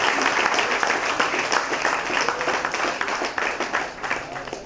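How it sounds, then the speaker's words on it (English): A crowd claps steadily in sustained applause at a prison futsal launch, dense and even throughout. "Well, they give Barry a clap."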